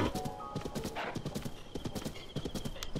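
Galloping horse hooves in Zelda: Tears of the Kingdom while riding through miasma, a fast steady clip-clop rhythm close and loud, with a brief whinny amid game ambience.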